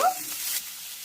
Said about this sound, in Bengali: গাজরটাও নাড়িয়ে নেব